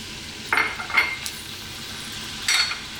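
Beef hits hot corn oil in a wok, giving a steady low sizzle with a few sharper bursts of spatter and clinks of utensils, with no voices.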